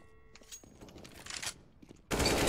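Gunfire in a deathmatch video game, heard as a few scattered sharp shots followed by a sudden, loud, sustained burst of rapid fire, with no talk.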